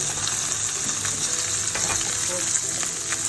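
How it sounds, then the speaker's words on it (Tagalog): Bacon strips sizzle and crackle steadily in a hot pan with garlic, a dense continuous frying hiss with faint scraping of a utensil, close and unbroken throughout. "Let's put our bacon down."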